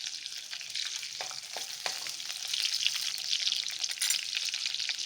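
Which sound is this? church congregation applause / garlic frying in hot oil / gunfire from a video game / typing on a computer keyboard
garlic frying in hot oil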